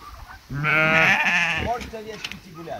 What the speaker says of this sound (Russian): Можете овечки идти гулять.